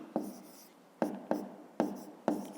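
A pen writes a math solution on paper, with four quick scratchy strokes spaced at short intervals, close and quiet, each a brief burst that fades.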